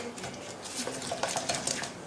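A whisk or spoon scrapes and clinks quickly in a bowl while mixing ingredients into a paste for pastry cream, with soft, close, irregular stirring taps.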